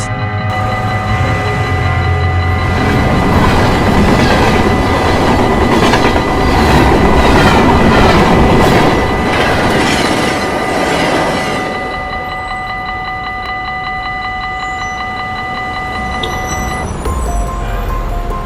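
A train rolls past at a level crossing, loud and close, its wheels clattering rhythmically over the rail joints. Steady tonal whines run through the pass, which fades at the end to a quieter, lingering hum.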